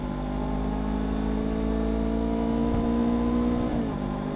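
A Kawasaki Ninja 500 motorcycle engine droning steadily after a downshift, a loud close humming tone that holds its pitch and then dips slightly near the end, with no talking.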